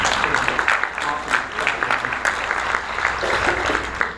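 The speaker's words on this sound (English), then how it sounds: "let's still just give her a round of applause" Moderate applause from a church service congregation, uneven clapping that rises and dips across the moment, with some voices mixed in.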